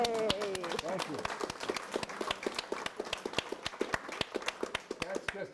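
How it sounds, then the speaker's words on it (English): Packed standing-room audience at a presentation on Harriet Tubman claps in crisp, distinct rhythmic strokes that grow sparser toward the end, with a voice speaking over the start. "Give yourselves a round of applause."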